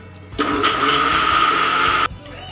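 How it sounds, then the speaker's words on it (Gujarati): An electric mixer grinder whirs loudly grinding raw mango in a single burst of under two seconds, starting abruptly and cutting off just as suddenly. "આપણે આને મિક્સરમાં કાઢી નાખીશું"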